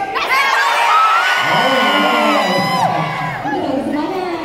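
A crowd at the UTHM 2019 arts festival cheering and whooping loudly during a VIP procession into the hall, with shouting voices rising and falling.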